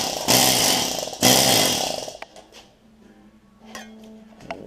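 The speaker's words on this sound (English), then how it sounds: "then just watch how the metal forms with the hammer" A Harbor Freight planishing hammer shapes a sheet metal patch panel, giving two loud sustained bursts of rapid mechanical hammering close by, then a few scattered metallic taps and clanks.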